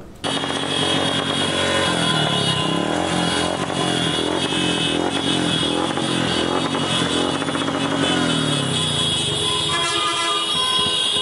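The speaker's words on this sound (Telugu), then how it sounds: "ఈ సందర్భంగా నియోజకవర్గంలో బైక్ ర్యాలీ నిర్వహించారు." A motorcycle rally at a constituency political event fills the air with continuous loud engine roar and overlapping horn toots, all close and dense throughout.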